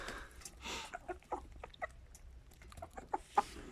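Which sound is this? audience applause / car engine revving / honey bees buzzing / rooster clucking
rooster clucking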